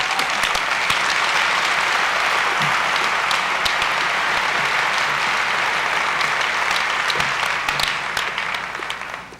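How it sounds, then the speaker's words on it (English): Business-session audience in Dubai applauding a colleague who stands up, a loud, full and even round of clapping that holds steady throughout before tapering off at the very end. "please join me on a round of applause"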